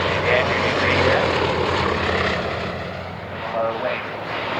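Steady roar of a propeller aircraft fitted with an 830 horsepower Bristol Mercury Mark 9 radial engine, flying at an evening air display at Shuttleworth, loud and continuous and easing slightly before swelling again.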